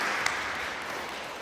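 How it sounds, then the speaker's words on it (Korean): A church congregation applauds to welcome a first-time visitor at a Sunday service. The applause is brief, even and sustained, with one sharper clap near the start. "박수로 환영해 주십니다"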